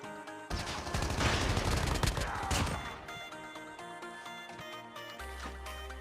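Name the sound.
gunfire in the video game Call of Duty Mobile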